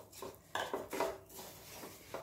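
Sesame seeds being stirred into hot jaggery syrup for tilgul ladoo, with a utensil clinking and scraping against a metal pan in close, irregular strokes.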